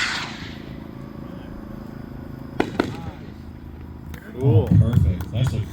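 Homemade firework rockets on 1-pound black powder motors with silver tails, tourbillon and blue pistol effects, launching at a pyro builders' showcase: sharp cracks and whooshes mid-clip, then louder roaring bursts near the end over crowd chatter.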